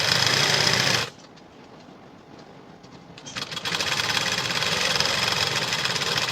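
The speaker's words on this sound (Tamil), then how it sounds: "இதை வந்து டபுள் டைம் நீங்கள் ஸ்டிச்சிங் போட்டுக்குங்க." A sewing machine stitches the band of a high-neck blouse in close, rapid mechanical bursts: a short run, a quiet pause, then a longer steady stretch of stitching.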